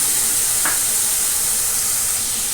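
A mixed paste of turmeric, cumin, Kashmiri chilli and coriander powders sizzling in hot oil with onions, a loud continuous hiss with one brief clink of a utensil.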